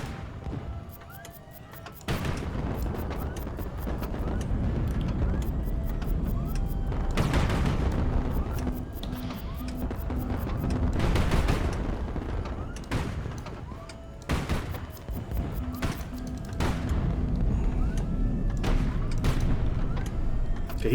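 Heavy gunfire in the Highfleet naval combat game, an enemy Paladin warship firing armor-piercing shells: repeated booming shots and bursts over a constant engine rumble, with rapid clustered volleys loud and close.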